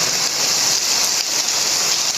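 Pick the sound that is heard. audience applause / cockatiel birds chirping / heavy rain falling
heavy rain falling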